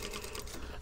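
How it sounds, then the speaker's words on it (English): A domestic sewing machine stitches a lined bomber jacket, attaching the lining along a seam: a steady, close, continuous motor whir with a fast mechanical needle patter, heard alone. "I'm just sewing over"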